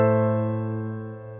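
A sustained minor chord rings out alone, steady and even, slowly fading over a second and a half with a rich stack of harmonics; the minor ii, iii and vi chords of a major key are being demonstrated on a keyboard.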